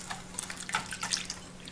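Milk poured slowly into eggs for a custard, a soft, uneven trickle and splash of liquid with scattered drips over a faint low hum, close and quiet without voices.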